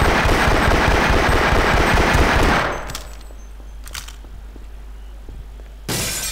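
Rapid machine-gun fire from Half-Life: Source bursts loud and dense for about two and a half seconds, then cuts off into near silence with a few faint clicks before another short loud burst at the end.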